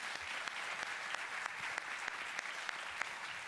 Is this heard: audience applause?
yes